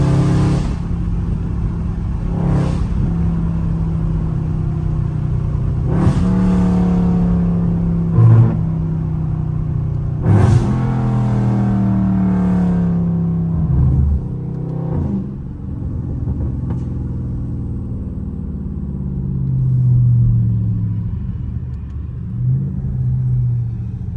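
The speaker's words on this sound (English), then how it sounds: "A little baby first gear pull." A Dodge Charger Scat Pack engine revs hard through a first-gear pull, climbing in pitch with several loud, sharp throttle blips and gear changes before settling into a deep rumbling drone.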